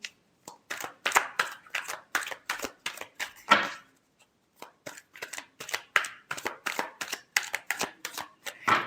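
Tarot cards are shuffled by hand in a rapid series of crisp riffling snaps and flutters, close and clear, with a brief pause midway before the shuffling resumes.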